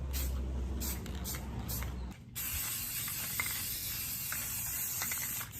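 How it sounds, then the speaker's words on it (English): Continuous hissing spray from an aerosol can, close and steady, with a brief pause partway through before the spraying resumes. "And then just start spray painting your area."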